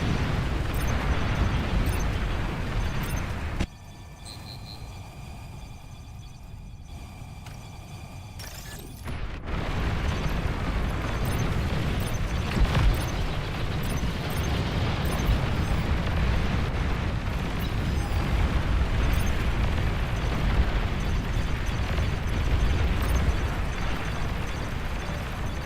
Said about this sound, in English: Commander destroyed.